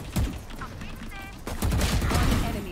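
Gunfire in the video game Valorant comes as quick bursts of shots in the foreground, sharp and fairly loud, while a player talks over them.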